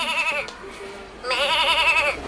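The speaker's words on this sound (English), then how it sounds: "That's the goat." Two electronic goat bleats from a children's farm animals sound book toy, a short one cut off at the start and a longer wavering one after a pause, both clear and close with no talk over them.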